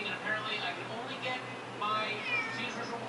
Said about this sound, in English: She's meowing to me.